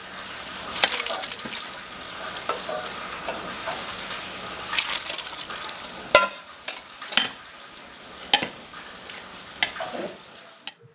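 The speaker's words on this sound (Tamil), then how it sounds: "இப்ப சாம்பார் வந்து கொஞ்சம் கொஞ்சமா நம்ம அந்த சாத்துல சேர்க்கிறோம்." Sambar stirred little by little into cooked, drained rice, giving wet, squelchy mixing sounds with scattered louder scrapes and clinks of a spoon against the vessel, close and without talk.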